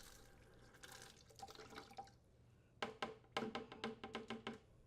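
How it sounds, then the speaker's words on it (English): Water flushing from a refrigerator's copper supply tubing through an opened shutoff valve, faint splashing and trickling that breaks into a quick run of sharp drips and spurts toward the end. "rotate the T-handle on the shutoff valve counterclockwise to fully open and flush out the copper tubing"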